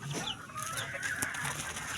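Fighting cocks cluck softly nearby in short bursts over a quiet outdoor background.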